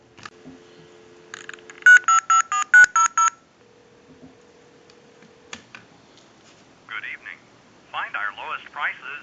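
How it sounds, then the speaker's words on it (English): A tone dialer on a candlestick telephone, with a low steady dial tone first, then a quick burst of several loud touch-tone beeps. The dial tone returns briefly, and a recorded time-and-temperature announcement voice follows. "we'll call a time and temp number with a tone dialer"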